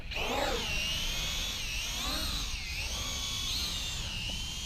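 Motors on a WLtoys Q323 FPV drone spin up for takeoff, a steady high-pitched whine that glides up and down in pitch, sounding close and continuous throughout.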